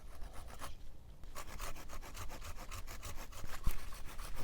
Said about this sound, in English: I'm going to take it off with my handsaw